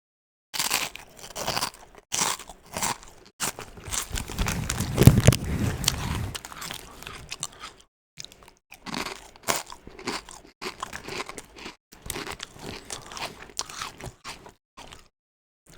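Spicy, heavily seasoned English supermarket crisps being crunched and chewed close up, a run of crisp bites and steady chewing, louder in the middle, with no talking.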